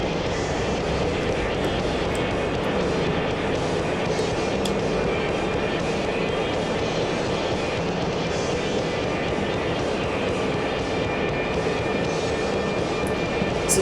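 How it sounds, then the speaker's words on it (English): An A-10 jet's engine in the DCS flight simulator: a steady, loud, broadband roar and whine that holds at constant level throughout with no breaks. "Is that an A-10? That's a fucking A-10. A laggy A-10."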